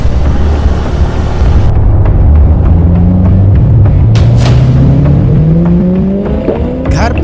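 A car pulls up in a horror story scene, its engine rising loud and near with changing pitch and a brief squeal-like sweep near the end.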